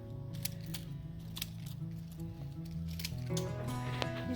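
Pruning shears snip back a blackberry plant being overwintered in a garage. Several sharp clicks and rustles of stems repeat irregularly over a steady, tonal background hum.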